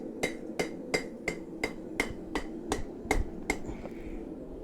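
Hot metal is hammered flat on an anvil in a steady series of about a dozen sharp ringing blows, evenly spaced and close, the last few lighter as the strikes taper off.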